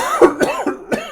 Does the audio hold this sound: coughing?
yes